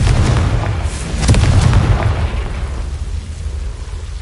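Confringo, a fire spell in a video game, bursts as a loud, close explosion: a heavy boom with crackling debris swells near the start, then rumbles and fades away over a few seconds.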